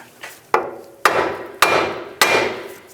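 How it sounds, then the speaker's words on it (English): Five sharp metallic hammer strikes on a Nissan Xterra ball joint to separate the steering knuckle, the first light and the rest hard and ringing, spaced about half a second apart with short decays between. "I'm just going to give it a tap with a hammer"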